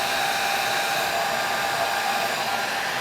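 A hair dryer blows steadily on hair while it is styled into a loose, natural down-swept look, a loud, constant rushing whoosh with no pauses, close up and without talk.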